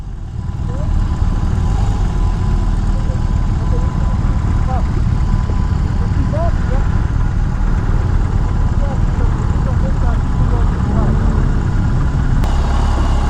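BMW R 18 motorcycle engine on a test ride, a loud, steady low drone mixed with road and wind rush that runs unbroken through the whole stretch.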